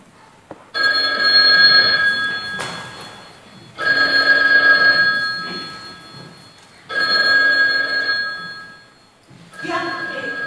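A telephone rings on stage during a school theatre performance at Teatro Concha Espina in Torrelavega, sounding loud and close in four separate bursts with short pauses between them.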